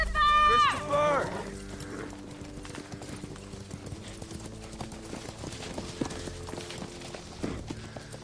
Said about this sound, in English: Now that we got his horse, Ellie, he's got to be nearby.